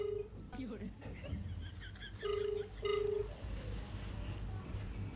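A phone is dialed to call the police, giving short beeping keypad tones that come in brief bursts amid background noise, with a voice around them.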